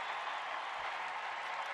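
Sustained applause from a stadium crowd at a women's soccer match, a steady broad wash of clapping at moderate distance with no break across the short stretch.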